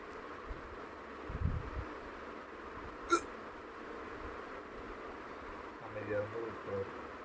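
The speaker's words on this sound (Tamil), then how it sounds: "பேசுங்காட்டி விக்கல் வருது இல்லையா?" Someone hiccups a few times in a quiet setting, the sharp catches spaced well apart against a low background hiss and faint rustle.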